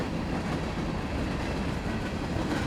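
Amtrak, CSX, Norfolk Southern and Canadian National locomotives roll past in Indiana, a steady, dense rumble and roar of wheels and rail noise that holds evenly throughout, with no voices.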